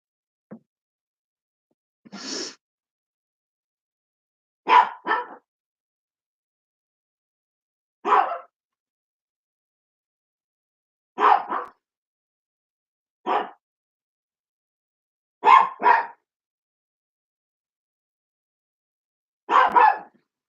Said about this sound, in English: that's one of my dad's dogs